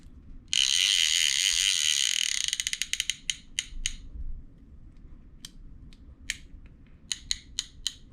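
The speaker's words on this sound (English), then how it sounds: "Clicker's loud." Loud metal clicker on an all-metal Camekoon fishing reel, a rapid ratcheting buzz that slows into separate sharp clicks, then scattered single clicks with pauses, close up and otherwise quiet.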